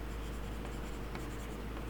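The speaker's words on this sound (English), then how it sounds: "I'm going to add a little bit of red colored pencil" Red colored pencil scratching back and forth on paper, a steady close-up scribbling texture with brief strokes, no voices.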